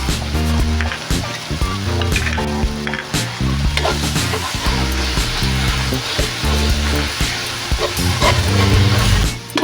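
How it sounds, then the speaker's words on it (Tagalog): Miso sautéing in a pan for sinigang sa miso with bangus, a steady loud sizzle with stirring under rhythmic background music, no talk. "isama ko sa paggisa yung ating miso"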